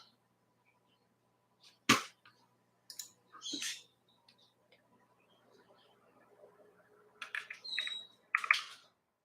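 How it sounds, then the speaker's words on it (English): A pet bird in a house gives a few faint, scattered chirps, separated by quiet gaps and soft clicking sounds. "we got a bird in the house"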